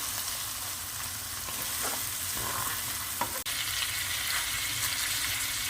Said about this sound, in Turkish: Pirincimin de içini sosun geçmesi için bir dakika kavuruyorum.